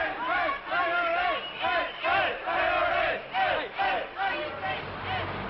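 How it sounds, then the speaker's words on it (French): Angry crowd in Ireland chanting and shouting in rhythmic surges, loud massed voices rising and falling in repeated bursts on an old broadcast recording. "Une foule en colère était l'image dominante de l'Irlande"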